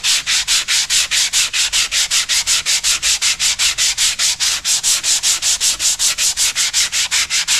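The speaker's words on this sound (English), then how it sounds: "all the high material will sand away" Rapid, steady back-and-forth sanding strokes across guide-coated fiberglass being smoothed for gelcoat or paint, a loud, even rasping rhythm of about four strokes per second, close up with no talking.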